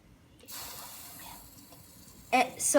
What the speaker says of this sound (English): we're going to add cold water so it cools down.